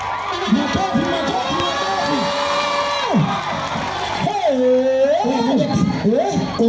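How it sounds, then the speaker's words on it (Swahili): A crowd at a gathering where Wanganangu songs are sung cheers and shouts loudly and continuously, with high, wavering whoops and ululating calls rising over the noise. "makofi"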